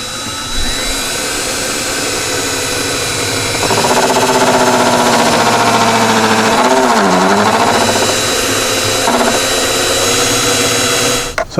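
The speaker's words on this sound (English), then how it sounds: "So it turns out I was grinding into my light a little bit, but there's a hole in there now." A power tool grinds steadily through the body of a 2010 Jeep Cherokee to cut a hole near a light, droning loud and continuous throughout with rising pitch shifts midway, close up.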